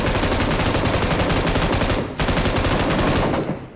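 Rapid automatic gunfire exchange in a battle royale video game, loud and continuous with dense overlapping bursts, a brief gap near the middle, then more sustained firing that ends abruptly.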